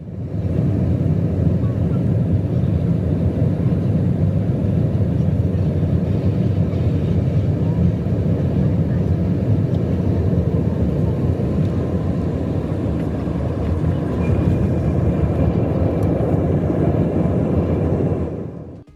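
Passenger airplane on its landing approach into San Francisco International Airport, a steady loud broadband roar of engines and airflow heard from inside the cabin, continuous and unbroken throughout.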